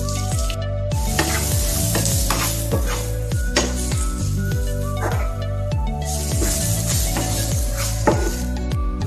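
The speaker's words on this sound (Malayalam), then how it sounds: "നല്ലപോലെ വഴറ്റുക." Chopped onions and green chilies sauté in a hot pan for alpoori, a steady loud sizzle broken by repeated rhythmic scraping strokes of the stirring spoon.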